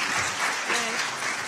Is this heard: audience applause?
yes